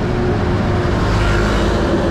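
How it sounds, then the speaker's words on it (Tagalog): Road traffic near a flyover under construction on the C5 Extension by Kaingin Road, a loud steady roar of passing cars and heavier vehicles close by, with no voices. "May traffic din pala dito."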